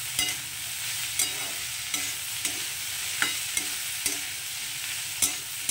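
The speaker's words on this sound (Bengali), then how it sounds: "এবার এটার সঙ্গে পেঁয়াজটাকে খুব ভালো করে মিশিয়ে নেব।" Long-sliced onions stirred into a frying potato mixture in a pan, with a continuous close sizzle and evenly spaced scraping strokes about once per second, and no talking.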